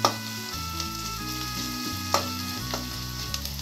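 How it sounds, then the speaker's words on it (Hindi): Onions sizzling and frying in a pan while they brown, a steady crackling sizzle with a few sharp clinks of a spoon stirring, close and fairly quiet, no voices. "प्याज को हम ब्राउन होने तक भूनेंगे।"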